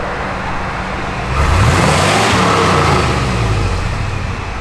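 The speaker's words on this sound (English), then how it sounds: "Give it a little rev." A 1987 Chevrolet Silverado 1500 4X4 pickup idles with a low engine rumble, then revs up sharply and holds a steady, loud, raised drone as the sound slowly eases back.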